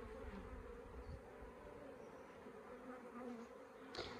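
Honeybee colony buzzing during a hive inspection after the harvest, a dense steady drone of many bees close by, faint but continuous with no talk over it.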